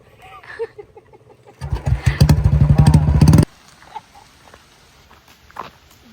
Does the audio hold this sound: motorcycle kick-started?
yes